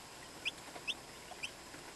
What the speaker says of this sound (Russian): Это белые будут шелковые курочки.